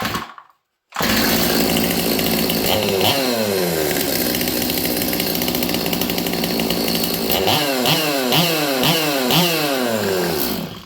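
A Stihl MS200T chainsaw with a boggy running fault starts up close and loud, idles with a rough buzzing drone, then revs up and down in repeated rising and falling throttle bursts.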